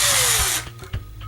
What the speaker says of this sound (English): I'm going to drill a hole through this very carefully